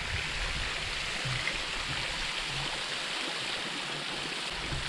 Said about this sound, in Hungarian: Mögöttem pedig ez a aprócska kis vízesés.